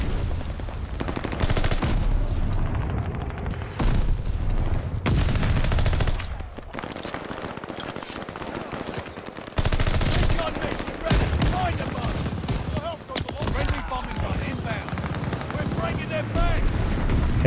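Sustained gunfire in Call of Duty Vanguard multiplayer, rapid automatic bursts and single shots crackling nearly nonstop, loud and close, with brief pauses and a voice talking intermittently over it.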